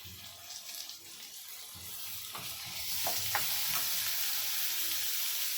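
Tomatoes tipped into a pan of frying garlic for misal, a soft steady sizzle rising and growing louder, with a few stirring clinks against the pan and no talking.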